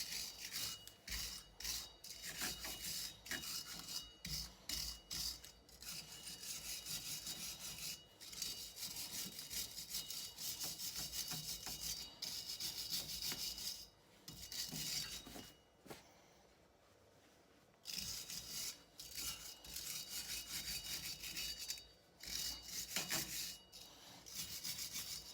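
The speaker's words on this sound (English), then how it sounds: "we're going to grab a brush, just clean the inside of these studs" A hand brush scrubs around the wheel studs and hub of a car's rear brake disc, making a close, rapid bristly rasping in repeated strokes, with a brief pause midway before the scrubbing resumes.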